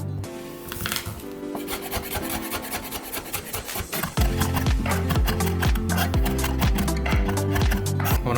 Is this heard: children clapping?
no